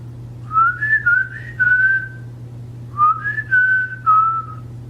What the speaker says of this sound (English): Can I whistle? Yes, I can whistle.